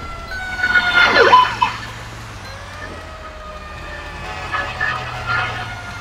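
A fire truck siren from a firefighter mod in the video game GTA 5 wails loudly at first, then fades to a steadier lower drone under an engine hum.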